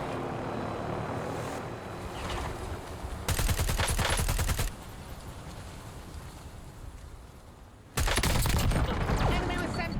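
Rapid automatic fire from a Model L rifle in a video game, two loud close bursts of sustained gunfire over busy game noise and a talking voice.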